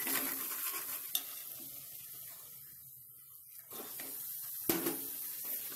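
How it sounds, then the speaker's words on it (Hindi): Minced meat keema frying with spices in a pan, a steady loud sizzle with stirring scrapes and a few sharp clinks, the hiss easing off mid-way before surging again. "अब हम इसमें खीमे को ऐड"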